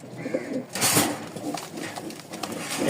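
Pair of long-tail Lakka pigeons cooing in a loft, with soft coos and a brief burst of wing flapping near the start, over steady background noise.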